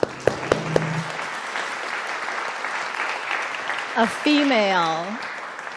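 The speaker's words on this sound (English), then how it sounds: "Let's pause just a moment to give her applause." An audience applauds the incoming dean of the University of Virginia Law School at a lecture, a steady wash of clapping lasting several seconds, with a voice speaking over it briefly near the end.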